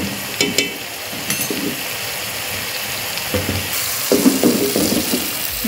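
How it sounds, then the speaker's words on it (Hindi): Masala for Hyderabadi chicken fries in a cooking pot, giving a soft sizzle broken by short bursts of stirring and scraping, plus a brief watery splash, close by and with no talk. "मसाला हमारा भुन चुका है"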